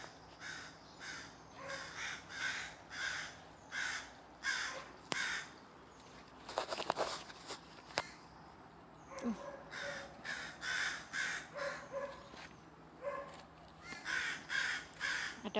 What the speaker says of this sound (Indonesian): Burung gagaknya banyak di sini.